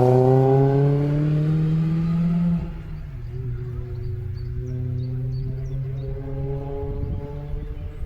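Mini Cooper R53 with a modified cold air intake, its engine note rising in a strong, loud harmonic drone, then dropping to a steadier lower hum as it settles into cruising.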